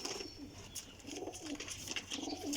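Pigeons coo repeatedly in soft, throaty phrases, fairly close, with a faint background hiss and no talking.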